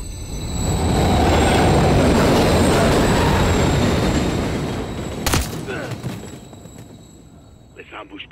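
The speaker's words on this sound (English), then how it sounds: "Another train coming." Train rumbling past in Call of Duty: Modern Warfare 3, a loud, broad roar that swells and then fades over several seconds, ending in a sharp metallic clang and quieter clatter.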